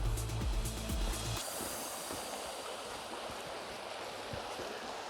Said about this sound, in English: Well, this is the creek by our campsite.